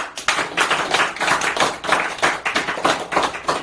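A group claps steadily in a dense, even patter, the rapid slaps running together continuously without a break.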